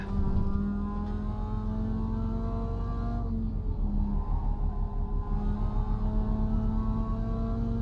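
An iRacing race car's engine drones and revs steadily, holding a loud tonal whine that dips briefly as the throttle eases, then climbs again under acceleration.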